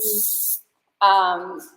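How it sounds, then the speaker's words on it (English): Humidity-resistant hair spray gives a steady, bright hiss for about half a second as it is sprayed onto curly hair, then a voice talks over a quiet background. "it's a humidity resistant spray. And let's be honest, humidity is not a friend for curly hair people. And so I spray this in first"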